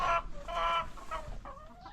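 Hens in a coop clucking close by, a few quick bursts of throaty clucks and squawks in under two seconds with no voices.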